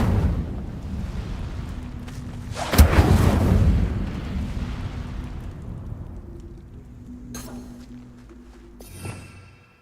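An Incendio fire spell cast in Hogwarts Legacy gives a loud burst of roaring, crackling flame that swells and then slowly fades, followed by a quieter whoosh near the end.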